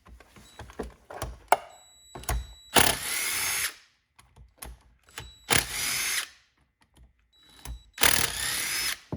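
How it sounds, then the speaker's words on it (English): A power tool's motor whirs in three strong bursts, each a couple of seconds long, pulling long T20 rear screws from a compact impact wrench, with clicks and handling noise in the pauses between bursts. "I figured we'd start by relieving it of its rear screws here, which looks to be a T20 here"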